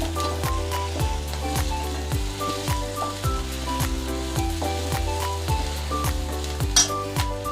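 Crushed garlic cloves sizzle in a hot pan for Kerala kadala curry, a continuous frying hiss broken by regular metallic clinks of stirring, loud and close, with no talk.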